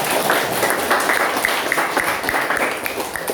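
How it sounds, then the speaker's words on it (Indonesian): An audience applauds steadily after a school class performance, dense clapping at a constant level throughout with no one speaking over it. "Oke, beri tepuk tangan untuk"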